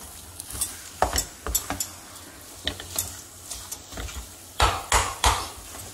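Spoon scraping and knocking against a bowl while drumstick cutlet mixture is stirred with maida flour, irregular close clinks and scrapes in uneven bursts with no talk.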